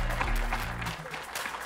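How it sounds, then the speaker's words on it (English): Applause from an audience at a ginseng festival ceremony in Wausau, Wisconsin, honoring a newly crowned ginseng queen; a short burst of clapping that fades within about a second, with low voice-like tones at the start. "Give a round of applause for Sarah Clavis."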